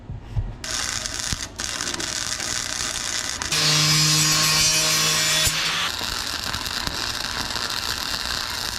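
Rusty steel on a log truck build being sanded with a power tool, a steady abrasive rubbing and whirring that swells louder for a couple of seconds mid-way, then settles back, close by with no talk.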